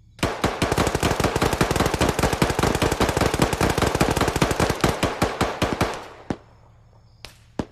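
Sustained automatic gunfire in ARMA 3 rattles out as dozens of rapid, loud shots for about six seconds, then breaks off into a few scattered single shots.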